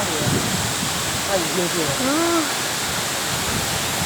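Virgin Falls waterfall in the Manyueyuan Forest Recreation Area, a steady broadband roar of falling water and spray filling the scene close by, with people talking briefly over it.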